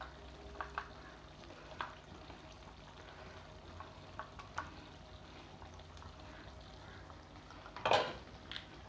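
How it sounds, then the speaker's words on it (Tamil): Half-cooked chicken being stirred with ground spice powder in a pan for chicken chukka makes a faint, low sizzle with soft, scattered stirring scrapes and one louder clatter of a utensil against the pan near the end. "இப்போ வந்து உள்ளே சேர்த்துட்டு இதை நல்லா கிண்டி விட்டுக்கிறலாம்."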